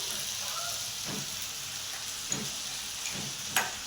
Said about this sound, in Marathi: थोडे काजू भाजून घेऊ त्याच्यासोबत